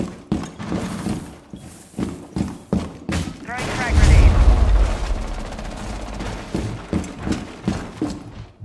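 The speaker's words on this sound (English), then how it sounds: "Throwing frag grenade." A frag grenade thrown and bursting in a multiplayer shooter game, a deep rumbling blast swelling mid-clip amid scattered gunshots, with people talking over it.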